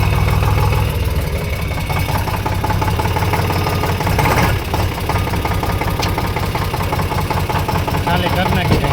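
A tractor engine idles on a farm after unloading chickpeas, a steady low rumbling chug that carries on evenly and loudly for nine seconds.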